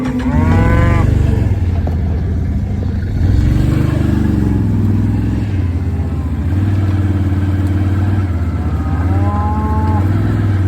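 Calves and cows mooing on a farm during silage season, several loud bellowing calls close by, overlapping with one another over a steady engine drone throughout.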